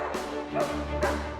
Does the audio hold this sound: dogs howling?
yes